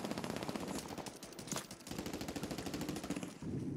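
Rapid bursts of suppressed automatic fire from the Sidewinder in Call of Duty Warzone, sustained rhythmic shots broken by a couple of brief pauses, close and punchy with no talking.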